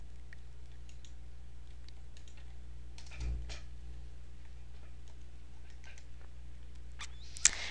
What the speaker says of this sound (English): You can go ahead and type in your name